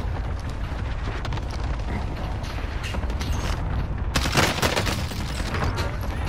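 Gunfire in a Call of Duty match, including sniper shots, dense mechanical clatter and bursts of shots, with a louder sharp blast near the end, no talking.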